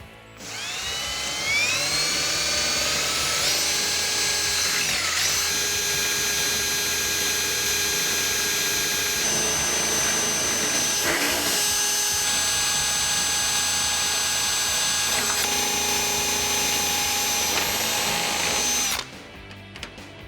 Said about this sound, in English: You're going to grab a 7/64 drill bit and you're going to go all the way through those holes